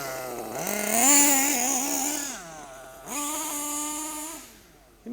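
Kyosho USA-1 nitro RC monster truck launching, its small engine screaming upward in pitch, dropping back, then wailing again in two loud, sustained bursts, close by with no one talking.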